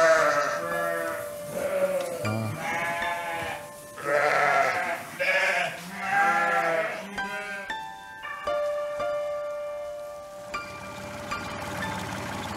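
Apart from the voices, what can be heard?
sheep bleating on a farm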